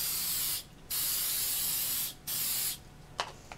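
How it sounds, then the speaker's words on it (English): RhinoTech instant frame adhesive is sprayed as a fine mist around a screen printing frame, in three close hissing bursts of about half a second to over a second each, separated by short pauses, with a brief fainter spurt at the end. "We're going to give it a spray all the way around."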